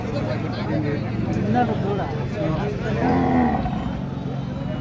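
Cows moo in low, drawn-out calls, one nearby and loud, amid a murmur of people talking in the background at the Saturday cattle market in Pebbair.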